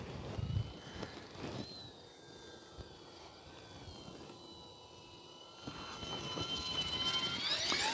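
A Horizon Hobby UMX P-51D Voodoo, a small electric RC warbird, flies overhead with a steady whining drone that rises and brightens near the end as it passes closer, with outdoor background noise and no talk.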